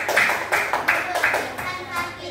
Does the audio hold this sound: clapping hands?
yes